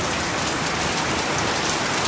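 Heavy rain falls at night in a steady, dense hiss that fills the air without pause, loud and close, and no voices can be heard.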